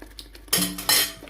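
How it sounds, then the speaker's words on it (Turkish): A metal spoon scrapes and clinks against a pot while okra in olive oil is stirred, two short bursts of clattering close by, with no voices. "biraz daha karıştırayım."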